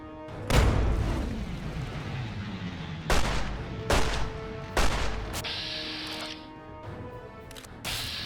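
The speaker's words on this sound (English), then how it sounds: "Nope, trying to grenade me." Grenade explosions in the Fallout 3 / New Vegas Tale of Two Wastelands game boom heavily, about four close blasts each with a rumbling decay, spaced a second or two apart, followed by quieter clattering.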